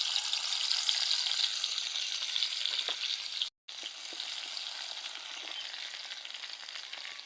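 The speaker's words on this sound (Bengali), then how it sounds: "সয়াবিন তেল দিয়ে দিচ্ছি পেঁয়াজ কুচি দিয়ে দিচ্ছি" Chopped onion frying in hot soybean oil, a bright, even hiss of sizzling with faint pops, close and steady, broken by a brief gap midway, no voices.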